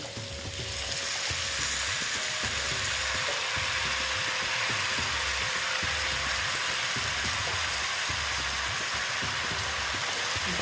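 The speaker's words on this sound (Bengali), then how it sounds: "এবার আমি লাউগুলো দিয়ে দিচ্ছি" Bottle gourd pieces sizzle in a frying pan with cooked dal for a vegetarian lau ghonto, a steady frying hiss broken by soft scraping stirs, close and continuous with no talking.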